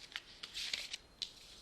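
Tarot cards are shuffled close up, a quiet series of brief papery riffles and flicks in uneven bursts, with no talking.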